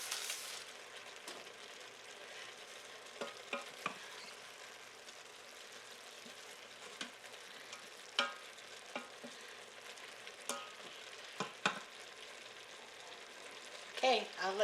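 Stuffed pepper casserole ingredients sauteing in a pan make a steady, quiet sizzle, with soft stirring and scattered utensil clicks and taps near the end.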